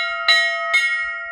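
A temple bell rings twice, clear metallic strikes with a long sustained shimmering tone between them, close and loud.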